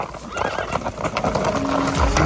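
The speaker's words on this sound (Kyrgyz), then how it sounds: "Жануар аттарды." Kyrgyz horses, one giving a clear loud neigh over hooves clip-clopping nearby, with faint voices in the background.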